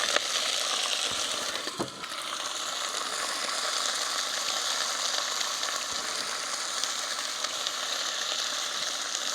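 Onion sizzling steadily in a pan on a camp stove, a continuous dense frying hiss close by with a brief louder crackle near the start and no talking.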